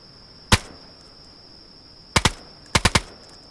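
Gunfire in DayZ: one sharp shot, then a quick pair and a rapid burst of three, loud and crisp over a faint steady tone, with no voices.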